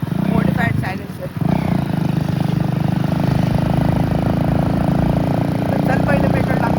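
A motorcycle with a modified silencer runs close by, a loud continuous rough engine drone that holds steady apart from a brief dip, with people talking over it.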